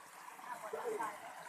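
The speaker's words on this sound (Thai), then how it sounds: "โอ้ น้ำตกคักอะไรบ้างนี่" Waterfall stream flowing outdoors in Thailand, a faint, steady trickling and gurgling of water with a voice briefly heard over it.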